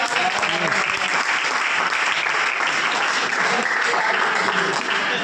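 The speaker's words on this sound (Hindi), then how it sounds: "जोरदार तालियां" Loud, sustained applause from a college audience after a ceremonial lamp-lighting at a cleanliness-campaign event in Sasaram, dense and steady throughout without pause.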